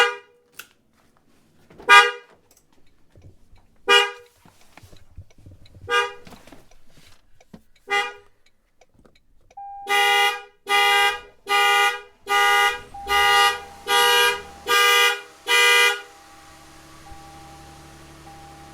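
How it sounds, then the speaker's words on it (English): A Toyota Tundra alarm sounds loud and close: spaced single horn honks at first, then a rapid run of evenly timed blasts, ending with engine rumble. "once the vehicle was started for a few seconds, the alarm went off"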